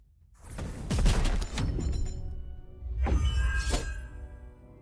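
Video game gunfire, a burst of sharp cracking shots with glassy, shattering impacts in quick succession, a pause, then another cluster of shots, close and moderately loud.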